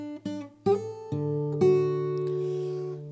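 Close acoustic fingerstyle guitar phrase from a tutorial piece, four or five plucked notes in steady succession that ring and sustain together, alone without talk.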